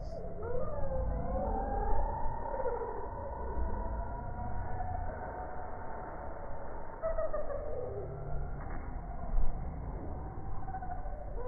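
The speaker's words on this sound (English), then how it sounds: "This is some swifts at this pavilion" Eerie, drawn-out wavering calls from swifts at a pavilion in China, slowed down so they sound low and hooting, repeating over a muffled, rumbling background.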